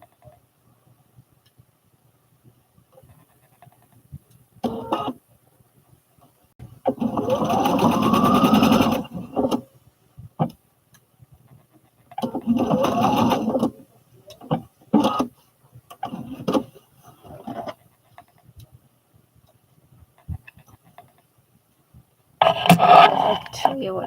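A sewing machine stitching overalls runs in several short bursts of a few seconds each, close and fairly loud, with quiet pauses between them.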